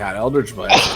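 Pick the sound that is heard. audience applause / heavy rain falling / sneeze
sneeze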